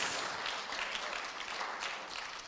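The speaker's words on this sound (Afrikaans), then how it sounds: "Gee Jesus 'n lekker hande klap" A church congregation claps in applause for Jesus, producing a fairly faint, continuous patter of many hands that fades slightly toward the end.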